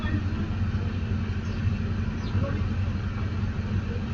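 Steady street traffic noise with a continuous low rumble of passing cars and other road vehicles, loud and unbroken throughout, with no clear speech standing out above it.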